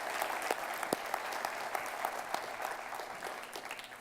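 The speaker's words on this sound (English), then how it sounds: "atherine, the work she's done in Faith Kids, just give them a round of applause." A church congregation applauds, producing continuous, moderately loud clapping from many people that holds steady for several seconds with occasional sharper individual claps.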